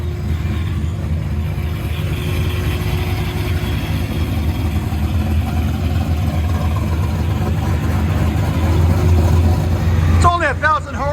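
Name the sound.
loud 1,000hp procharged Corvette engine with long tube headers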